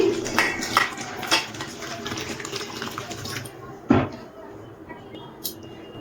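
Salted chalta fruit being washed by hand in a bowl of water: splashing and swishing, with light clinks of a metal bowl and one sharper knock partway through.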